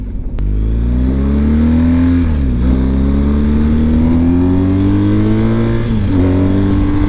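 A Harley-Davidson Pan America motorcycle accelerates hard off-road, its loud, close engine rising steadily in pitch, dipping briefly at two gear changes, then climbing again.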